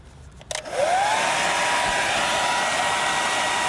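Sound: hair dryer blowing

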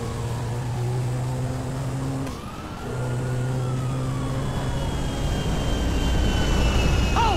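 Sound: airplane in the video game GTA V

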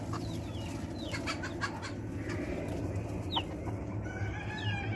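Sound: chickens and roosters clucking running out of coop

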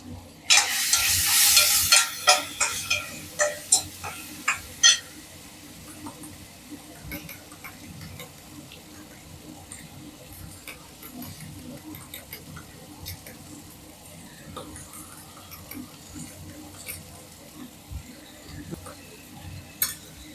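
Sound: beating egg batter for egg paniyaram

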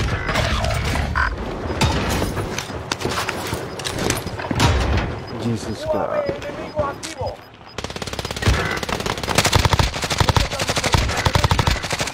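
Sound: gunfire shooting at the player in a video game

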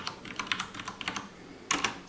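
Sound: typing on Cooler Master Quick Fire XTi mechanical keyboard

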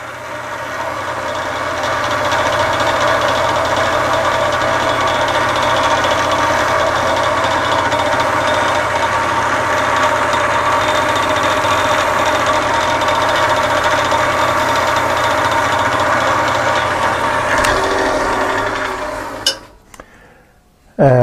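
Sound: wood lathe spinning while polishing with wax

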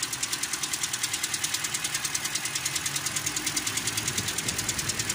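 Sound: Toyota Corolla 3GR 2.0 engine knocking

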